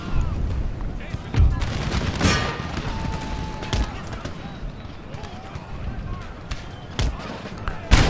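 Volleys of musket gunfire in a battle of the Empire: Total War strategy game, with repeated sharp shots and crackling fusillades over a steady battlefield din, while a voice is heard over it.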